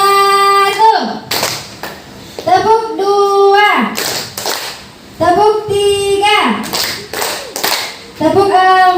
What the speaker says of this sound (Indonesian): Mari kita bertepuk dulu.